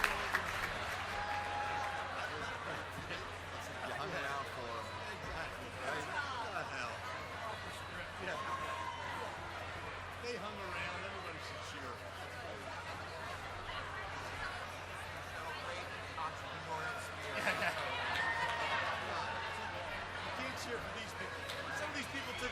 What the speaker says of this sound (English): Applause and cheer all you want when they come up.